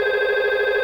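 A telephone rings continuously during a simulated call to extension 111 in a data communication application, a loud, steady electronic tone with no talking.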